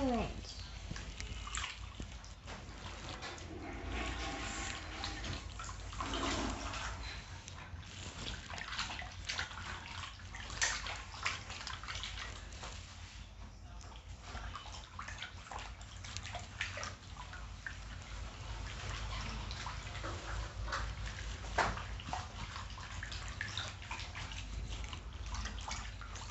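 Hands rinsed under a running tap, with a steady broadband splash of flowing water filling the whole stretch, occasional louder splatters, and a voice talking over it.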